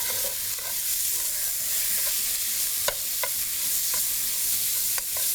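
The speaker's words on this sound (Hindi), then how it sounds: "इसको थोड़ा फ्राई करेंगे हम।" Minced chicken sizzles steadily in a hot pan while being fried for a chicken vegetable corn soup, with a few light clicks of a spoon stirring through the constant hiss.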